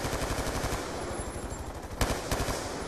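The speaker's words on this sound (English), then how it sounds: "Hostile dragon fire in your AO." A Dragonfire drone opens fire in the video game Black Ops 2, giving a loud, continuous stream of rapid automatic shots with a couple of sharper hits near the end.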